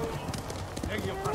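Steady clip-clop of horse hooves at a trotting pace in Ghost of Tsushima, with background game noise and a voice talking over it.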